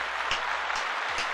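Light applause for a viewer: a short patter of claps over steady broadband noise, with no talking.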